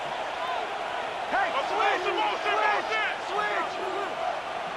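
A stadium crowd in a Madden NFL 26 simulation of a Lions vs. Vikings rivalry game roars steadily ahead of a third down, with swelling cheers and shouts under a brief voice.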